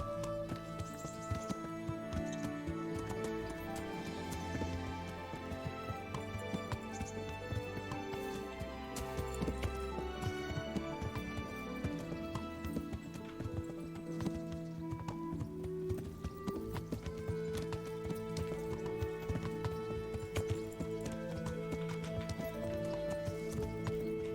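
Horse hooves clip-clop in the medieval video game Kingdom Come Deliverance, a steady rhythmic trot carried under a loud, constant orchestral music score throughout.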